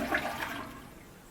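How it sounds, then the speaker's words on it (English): A toilet flushes in a brief, fairly quiet rush of water that fades quickly, with no voices present. "Now I'm going to flush the toilet."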